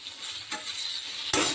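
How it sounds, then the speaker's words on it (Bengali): Okra (bhindi) frying in a pan while being stirred, a close steady sizzle broken by two sharp scraping stir strokes, the second louder. "देखो मेरे ये भिंडी भाजी हो रही है"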